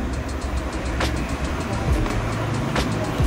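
An Epson EcoTank M2170 printer runs while printing an alignment page, giving a steady mechanical hum with faint intermittent whirring and clicking from the paper feed and print head.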